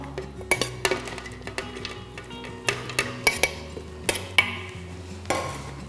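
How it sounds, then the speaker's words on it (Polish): Ingredients such as cabbage are dropped into a blender jar, clattering and knocking in a run of sharp, irregular clinks and thuds close by over a low background hum, with no talking. "W pojemniku blendera umieszczamy wszystkie składniki"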